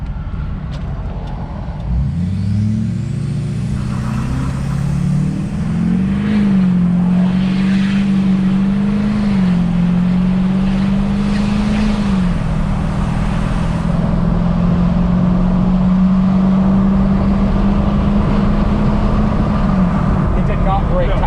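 A Duramax diesel pickup truck launching hard and breaking tire traction, its engine rising quickly into a loud sustained drone that holds for many seconds, close and dominant.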